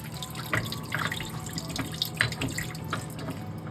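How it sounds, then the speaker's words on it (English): Water trickles and splashes through a boat's air-conditioning raw-water strainer aboard a MarineMax 443 after the ball valve is opened slightly, a steady close flow with a few small drips and spatters and no talking. "Opening my ball valve up slightly to allow a little water flow to confirm"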